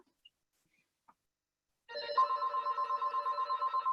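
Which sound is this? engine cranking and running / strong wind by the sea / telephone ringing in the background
telephone ringing in the background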